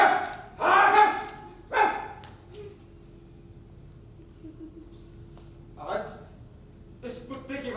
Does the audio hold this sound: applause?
no